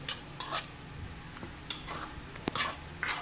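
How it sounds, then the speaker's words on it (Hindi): A spoon scrapes and clinks against a pot while salt, turmeric, red chilli and ginger are stirred together, several short metallic strokes over a faint sizzle, close and fairly clear with no talking. "सब मसालों को हम इसके अंदर अच्छी तरह मिक्स कर लेंगे"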